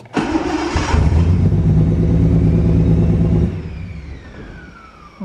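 Turbocharged Datsun 280ZX engine newly fitted with a Haltech 550 ECU cranks briefly and fires, settling into a loud, rough, steady idle nearby before cutting off, leaving a fading high whine.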